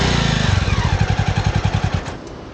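A motorcycle engine fires up and runs near and loud in Simtang, Sikkim, with a rapid chugging pulse that fades toward the end.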